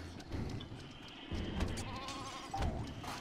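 Sheep bleating inside the LittleBigPlanet 3 game, several wavering bleats in a row over a busy bed of game sound and effects, fairly close and moderately loud.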